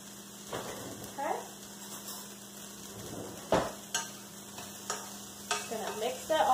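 Seasoned chicken with salt, pepper and garlic powder stirred in a hot pan, a spoon scraping and clinking in uneven strokes over a soft steady sizzle, with a voice talking at points.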